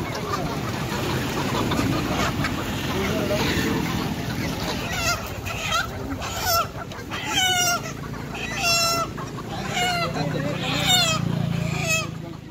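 Native country chickens brought from Tamil Nadu for votive offerings cluck and squawk in short bursts at the Bandi festival street market in Madanageri, Gokarna, amid crowd chatter and voices.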